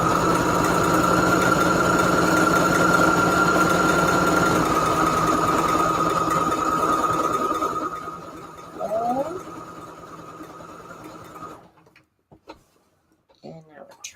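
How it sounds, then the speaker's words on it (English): A sewing machine stitches a zigzag on a junk journal piece with a fast, steady mechanical whir. After about eight seconds it slows and cuts out, leaving quieter handling sounds and faint movement near the end. "I'm just going to be using just my regular zigzag stitch number 4 that I like."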